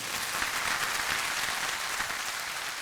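Audience applause at a wellness and wellbeing certification course introduction, a steady wash of many hands clapping that fills the whole stretch evenly, fairly close and without speech over it.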